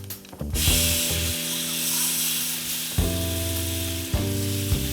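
Fresh-picked rosemary sizzles in butter in a cast iron skillet, a loud steady frying hiss with a few sharp crackles and bursts throughout.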